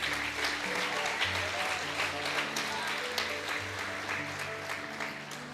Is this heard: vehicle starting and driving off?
no